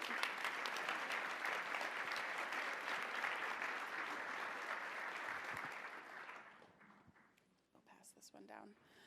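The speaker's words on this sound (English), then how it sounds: "If we could give them a round of applause as they do." An audience at a women's luncheon applauds as panelists walk up, a dense, steady wash of many hands clapping that holds for about six seconds before thinning out and fading into faint murmurs and movement.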